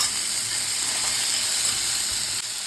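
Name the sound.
vegetables frying in a pan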